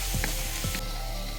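Garlic sizzles in a very hot wok, a bright, steady hiss of frying oil with a few soft scraping stirs, close and continuous with no talk.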